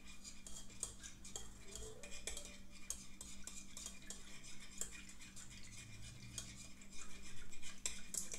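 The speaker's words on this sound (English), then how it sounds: "We just stir those in again." Beeswax pellets being stirred into cottonwood salve, a spoon scraping and clinking steadily against the pot in soft repeated strokes, fairly quiet, with a slightly louder stretch near the end.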